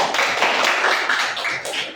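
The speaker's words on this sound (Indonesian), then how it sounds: "Tepuk tangan dulu" A classroom group claps after finishing a presentation, a short burst of steady, close applause that lasts about two seconds.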